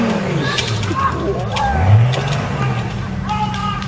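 A Bobcat skid steer loader drives over big bulldozer tyres, its engine rumbling and revving up briefly midway, close and fairly loud, with people talking over it.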